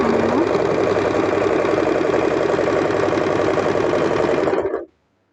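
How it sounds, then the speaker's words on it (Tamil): An Usha Janome Stitch Magic sewing machine runs at a steady, loud, continuous hum while stitching on scrap cloth, close to the listener, before cutting off abruptly. No speech. "மிஷின் தையல் போட ஆரம்பிச்சிடும்."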